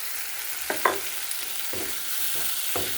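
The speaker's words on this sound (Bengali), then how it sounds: "ভালো করে এটা কষে নিচ্ছি মটরশুঁটির সাথে।" Green peas with turmeric and chilli powder fry quietly in a pan, a soft steady sizzle broken by a handful of light spatula scrapes, close but low in level.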